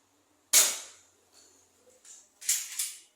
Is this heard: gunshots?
yes